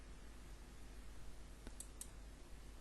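Two quick, faint mouse clicks in close succession in a quiet room, while paying bills in QuickBooks.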